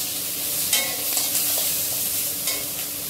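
Vegetable peels fry lightly in a little oil with a soft, continuous sizzle, and a few scraping stirs of a spoon against the pan sound close by.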